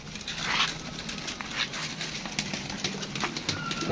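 Pigeons gathering at scattered grain in the open, with soft cooing, occasional wing flutters and light pattering of feet, faint and fairly close, with no speech.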